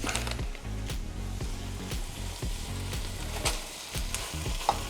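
Ground meat dropped into a hot pot for shepherd's pie, loud steady frying sizzle with repeated scraping stirs and knocks of a utensil against the pot.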